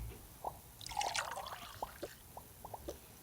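Cartoon liquid pours and drips in a Toca Boca game: soft dribbling drops and a brief trickling swirl, quiet and sparse, with no talking.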